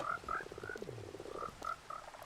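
Frogs croak in a dense nighttime chorus in the audio game The Vale, with repeated warbling calls overlapping at a steady, moderate distance; no one speaks.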